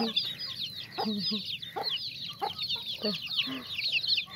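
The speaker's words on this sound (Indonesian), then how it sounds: "Tuh ayamnya kok pada bisa masuk" Chickens, Bangkok-type fowl in a yard, cluck repeatedly in short bursts over a steady high chirping of birds, with no voices over the brief clucks.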